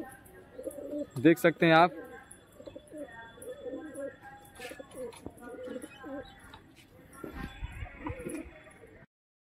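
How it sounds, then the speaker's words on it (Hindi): Pigeons settling on a rooftop after a three-hour flight coo and flutter in a short, loud burst near the start, then fainter calls continue under someone talking close by. "तो देख सकते हैं हमारे सारे कबूतर छत पर उतर चुके हैं"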